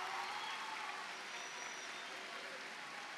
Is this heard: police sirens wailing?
no